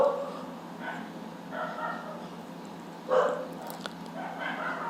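Dogs bark in a series of short, spaced yelps across the stretch, a few louder than others, over a steady background hum.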